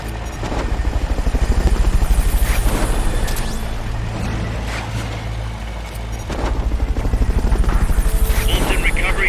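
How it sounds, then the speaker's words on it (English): A Fulton recovery helicopter from the video game Metal Gear Solid Peace Walker makes a loud, continuous rotor thump that pulses steadily and swells and fades slightly, with other game sounds mixed in. "Fulton recovery helicopter is complete."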